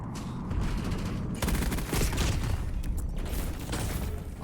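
Sustained automatic fire from an M15 rifle in the shooter Black Ops 7, a dense, continuous rattle of rapid shots with mechanical clatter, loud and close throughout.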